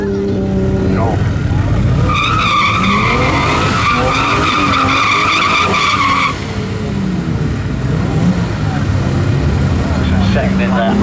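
A rear-wheel-drive converted VW Golf Mk2, powered by a twin-turbo Audi S4 2.7L V6, drag races a BMW, with loud engine roar and tire noise near the start before tapering off, while a commentator talks over it.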